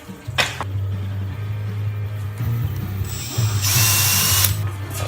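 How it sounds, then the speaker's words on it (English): A power drill with a large bit whirs steadily with a low motor hum, bearing down through a tiny house's floor panels and briefly rising to a higher grinding whine before stopping. "Wow, that was a big drill bit."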